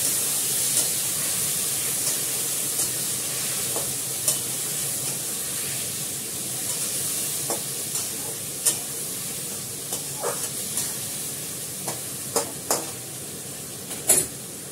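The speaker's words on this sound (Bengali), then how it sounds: "এবারে ভালো করে কষাবো।" Onion paste with green chili and garlic frying in a pan, a steady close sizzle broken by scattered clicks and scrapes of stirring, with no talking.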